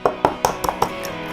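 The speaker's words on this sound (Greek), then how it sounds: "Θα τα σπάσω πρώτα σε ένα μπολάκι για να μην μας πέσει κανένα τσόφλι." Two eggs cracked against the rim of a small bowl in a home kitchen for a cheese pie: a quick series of five sharp taps and cracks in about a second, close and crisp.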